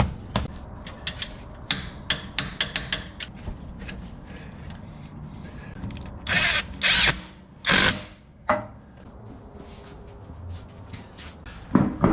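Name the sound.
power tool tightening sway bar bolts on a 2020 4Runner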